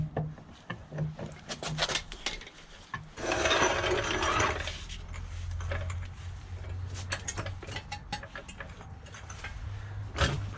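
A ratchet works loose the 19 mm shock absorber bolts on a Ford Fiesta Mk3, giving rapid close metallic clicking in bursts with some rubbing and clunking of tools in between.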